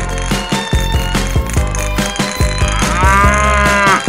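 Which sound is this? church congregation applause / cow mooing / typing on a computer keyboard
cow mooing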